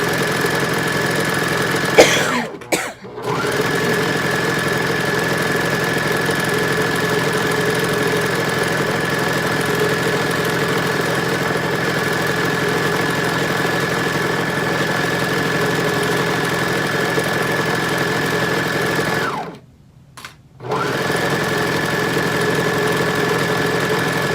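Sewing machine stitching down a maxi skirt pocket, a steady mechanical hum with a faint rapid needle rhythm running for long stretches, stopping twice briefly, close and alone without talking.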